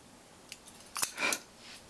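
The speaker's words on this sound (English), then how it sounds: "I think I need to put the scissors down." A brief metallic clatter as scissors are set down on a hard surface, a sharp click followed by a short rattle in an otherwise quiet room.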